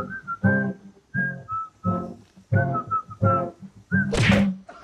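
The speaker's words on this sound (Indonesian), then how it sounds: "gua kagak nyanyi, gua siul doang" A person whistles a tune in short melodic phrases separated by pauses, close and clear, ending with a brief burst of noise.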